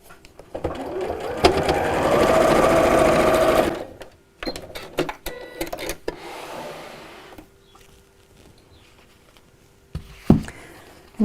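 A sewing machine runs in one long steady burst while stitching patchwork fabric for a pin cushion, followed by short bursts and clicks as the fabric is moved, close and alone.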